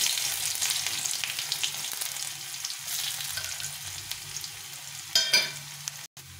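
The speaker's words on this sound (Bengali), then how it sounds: "এখানে গোটা জিরে নিয়েছি, এই জিরেটা দিয়ে দিলাম। দিয়ে একটু রসুন কুচি করে নিচ্ছি, রসুন কুচিটা দিয়ে দেবো।" Whole cumin seeds and chopped garlic fry in hot oil on low flame, a fine steady crackling sizzle close up, with a brief louder scrape of a spoon near the end.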